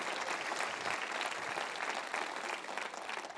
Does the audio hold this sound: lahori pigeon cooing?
no